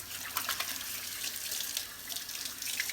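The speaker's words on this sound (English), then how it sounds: "Let me wash my hands again." Running tap water splashes over hands being washed during outdoor Dutch-oven cooking, a steady close gush with light splashing and no voices.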